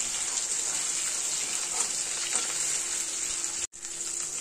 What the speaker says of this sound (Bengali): মাছগুলো এবার উল্টিয়ে দেবো। ইলিশ মাছ বেশি ভাজতে হয় না, হালকা ভাজতে হয়।